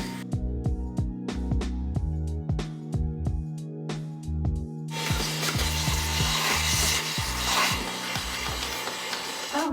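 A Fanttik Slim V8 cordless handheld vacuum with its hose attachment, set on low, sucks up coffee grounds; rapid close clicking and rattling of grounds gives way to a steady whooshing motor hum.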